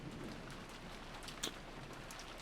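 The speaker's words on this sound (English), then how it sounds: "The only voice that called after them was the sound of the rain." Steady rain falling in the Umineko When They Cry visual novel, a soft continuous hiss of drops with one brief brighter patter near the middle, quiet and without voices.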